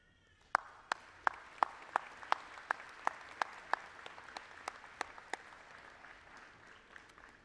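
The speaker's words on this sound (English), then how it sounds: "Graduates, please give a wave and a round of applause to those who helped you along the way." Crisp, evenly spaced claps at a university convocation ceremony, about a dozen sharp beats in a steady rhythm that thin out and fade into a quiet hall.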